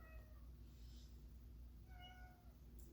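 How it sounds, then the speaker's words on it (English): A pet cat named Sadie meows from another room, two or three faint, distant mewing calls over a quiet indoor hum. "Why are you meowing at me from afar?"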